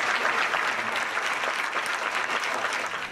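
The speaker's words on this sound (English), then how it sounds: "a viewing party in Longueuil, Quebec, cheering on the astronauts" A crowd at a viewing party in Longueuil, Quebec, applauds and cheers an astronaut launch, with dense, continuous clapping filling the whole stretch.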